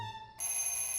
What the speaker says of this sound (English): Ooh, there's my first alarm clock.